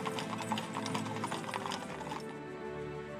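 U.S. Army Old Guard horses clip-clop with steady, overlapping hoofbeats and faint tack jingle, fairly close. The hoofbeats thin out abruptly toward the end, leaving a quieter, steadier background.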